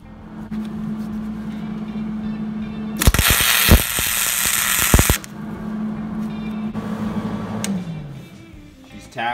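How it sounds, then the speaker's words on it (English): MIG welding on a Billy Goat debris loader blower being turned into a dust collector: a loud, harsh crackling burst of about two seconds in the middle, with quieter shop hum and clicks before and after. "We're gonna weld the second one in now."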